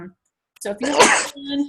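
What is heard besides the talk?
sneeze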